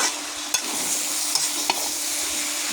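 Shredded cabbage and about four chopped tomatoes stirred in a hot pan for a Bengali cabbage ghonto, with a dense steady sizzle and a few spatula scrapes and knocks against the metal, and no voices.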